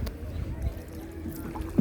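Oars work a small wooden boat through the water on a trip in Naogaon, giving soft splashing and gurgling with wind noise, close and low, with a faint murmur of voices.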